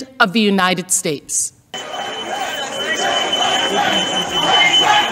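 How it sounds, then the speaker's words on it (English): A security alarm sounds steadily from a door inside the US Capitol building during the riot, a continuous high tone running under crowd noise after a short stretch of speech at the start. "You can hear the security alarm from the door in the background,"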